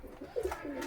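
Pigeons on a farm cooing in a brief, soft, low burbling call, fairly close but quiet, with no one speaking.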